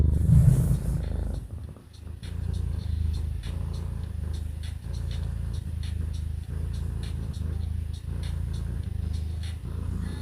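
A cat purrs loudly and steadily at close range, a continuous rumbling pulse lasting the whole stretch with no talk over it.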